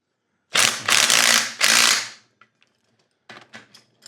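A hand ratchet tightens bolts on a skid steer bucket: three loud, rapid clicking bursts close by, then a few fainter, scattered clicks.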